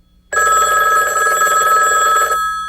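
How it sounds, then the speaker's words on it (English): A telephone bell rings loudly and continuously, close by, starting abruptly after a brief quiet moment and holding a steady metallic trill until it fades near the end, with no talking. "The phone started ringing."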